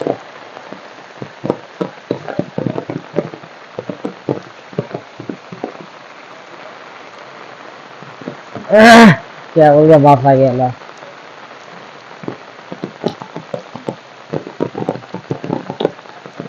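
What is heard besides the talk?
heavy rain falling in a village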